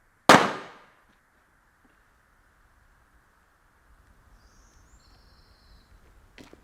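One sharp, loud gunshot cracks out and decays quickly in a thriller scene, followed by near silence with faint outdoor insect or bird sounds and a small knock at the end.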